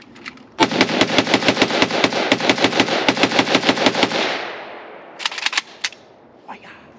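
An Arsenal SAM5-62 rifle fires at an outdoor range, a rapid string of loud, evenly spaced sharp reports lasting several seconds, then a decaying echo and a few scattered single shots near the end.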